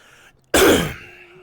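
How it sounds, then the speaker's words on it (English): One sharp, loud cough bursts out and fades quickly, alone, during a VRChat role-play session. "Looks like everyone's got a cough today."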